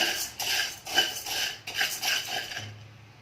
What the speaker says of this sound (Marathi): ह्या कढईमध्ये साबुदाणे आहेत ते भाजून घेणार आहे